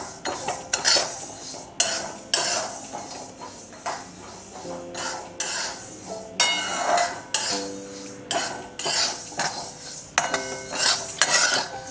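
Moong dal dry-roasted in a pan, stirred with a metal spoon: repeated clinks and scrapes against the pan with a faint rattle of grains, close and irregular.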